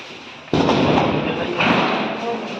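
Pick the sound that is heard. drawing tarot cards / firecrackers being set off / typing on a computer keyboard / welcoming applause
firecrackers being set off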